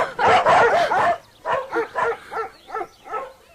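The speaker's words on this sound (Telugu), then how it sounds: "మా కుక్కలు కూడా మీరు నచ్చలేదు, అందుకని అరుస్తున్నాయి." Several dogs bark in a dramatic film scene, a dense, loud burst of barking followed by a string of six sharp, evenly spaced barks close by.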